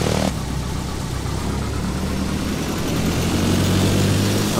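A Cessna single-engine propeller plane from A2A, simulated in FSX, runs at full throttle with full rich mixture above 2000 RPM on a runway. It gives a loud, steady, droning engine roar that holds throughout with no talk.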